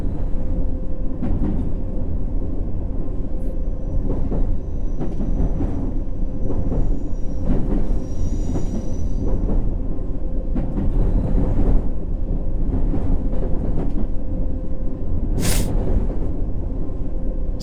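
A simulated London Underground Circle Line subway train in World of Subways rolls through a dripping tunnel: a steady, close, dense rumble with rattles and scattered drips and clanks, no voices.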